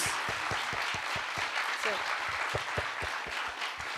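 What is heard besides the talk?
audience applause at a school annual event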